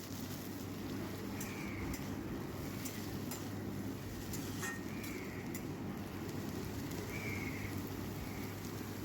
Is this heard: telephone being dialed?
no